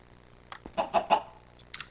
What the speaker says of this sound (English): you may have actually heard one. I did actually get a chicken.